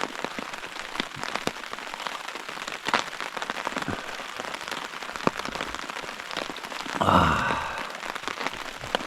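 Steady rain patters on a camping tarp nearby in late fall, with scattered heavier drops tapping irregularly and a brief rustle partway through.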